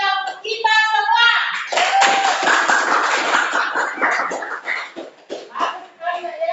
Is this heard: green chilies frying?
no